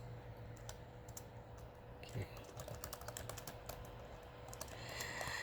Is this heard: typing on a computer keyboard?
yes